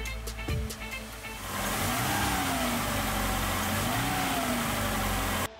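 A car engine starting and settling into a steady run during a fuel pump pressure check, with a few clicks and cranking at first, then a close, even idle with slight rises in revs.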